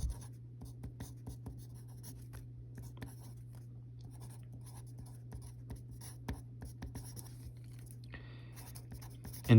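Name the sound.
writing with a pen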